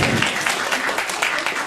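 A theater audience claps loudly and continuously in a thick, close burst of applause, brief and energetic, with no talk over it.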